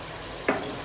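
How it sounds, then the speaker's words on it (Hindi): Garam masala, coriander powder and black pepper hit a hot pan with a short, sudden sizzle over a low steady background hiss. "इन मसालों को भी हम अच्छी तरह से भूनेंगे, पकाएंगे।"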